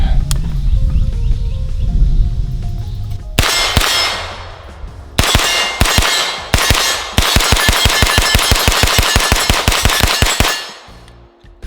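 Aero Precision EPC9 AR-9 pistol-caliber carbine, direct blowback with a longer barrel, firing close and loud: a pair of sharp shots, then a few spaced reports, then a long rapid string of evenly paced shots with metallic clanks between them.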